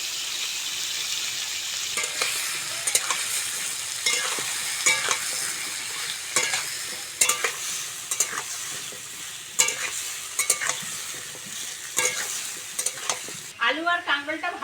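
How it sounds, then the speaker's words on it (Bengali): Kakrol (spiny gourd) and potato pieces frying in oil in a pan give a continuous close sizzle, broken by repeated clanks and scrapes of a spatula stirring, ending in a brief burst of bubbling; no talking. "কেটে ধুয়ে নেওয়া কাঁকরোল আর আলুটা দিয়ে দেবো"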